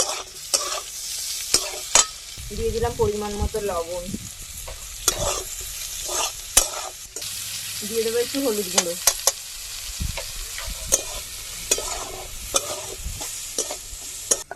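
Carrot, capsicum and chopped tomato stir-fried in a pan: repeated scraping strokes of a spatula over a constant sizzle, with a voice speaking briefly over it.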